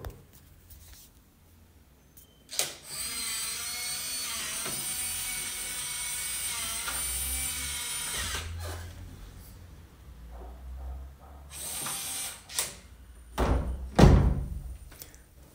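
A Nuki Smart Lock Pro motor unlocks a door: a steady mechanical whir runs for several seconds, then a few quieter clicks and a cluster of louder clunks and thuds as the door opens, with no talk.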